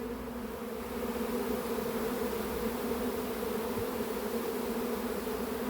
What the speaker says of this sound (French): Allez, revenez toutes les abeilles